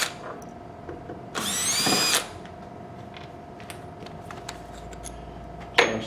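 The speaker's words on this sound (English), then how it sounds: "I'm now going to remove the 2 screws on the bottom," A power drill removes screws from the bottom right side panel of an x-drive gear plate assembly: one sustained whirring burst of under a second, quiet stretches with faint clicks, then a second short burst near the end.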